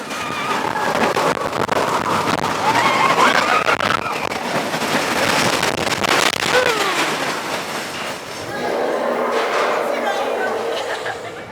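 A ride on the Expedition Everest roller coaster at Disney's Animal Kingdom: a loud, continuous rush and rumble of the train on its track with rattling and clatter, as voices talk and shout over the noise throughout.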